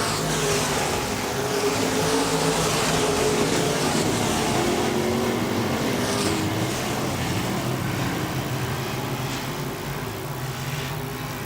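B-Modified race cars roar around Wagner Speedway dirt oval, a loud continuous blend of revving engines passing close as the pack runs together.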